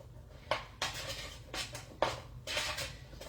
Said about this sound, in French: Bon, là, je mélange avec ma petite cuillère.